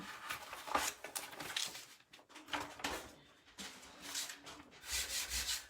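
Soft, close rubbing and scraping as a transfer sheet is pressed onto a beaded pumpkin charm, in short uneven strokes with brief pauses, quiet and without talk.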